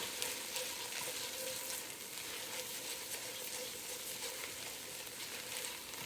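Onions fry steadily in a pot for French onion soup, a constant close sizzle and crackle with occasional soft stirring scrapes, no voices.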